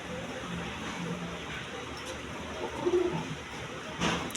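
Soft, low cooing from a roughly five-year-old local pigeon on a small Bangladeshi poultry farm, a few faint murmured coos against a muffled outdoor background.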